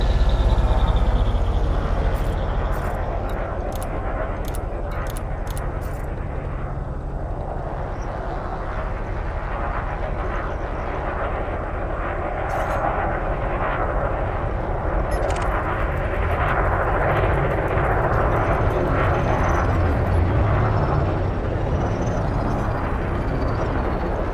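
Spaceship engines running at maximum thrust in the video game Elite Dangerous: a steady, loud, broad rumbling roar sustained throughout, with a few brief clicks and beeps near the start and a faint voice in the background.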